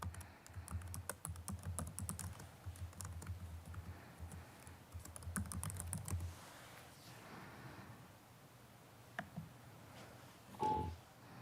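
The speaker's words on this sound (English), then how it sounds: "I'm going to try typing to her" Rapid bursts of typing on a computer keyboard during an online board meeting, close and clear, with clustered keystrokes for several seconds, then pauses, a few isolated clicks and a brief faint sound near the end.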